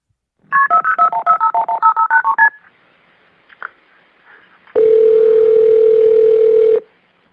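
Telephone keypad tones at the start of a 911 emergency call: a quick run of about a dozen touch-tone beeps, a short pause with faint clicks, then a loud steady tone lasting around two seconds.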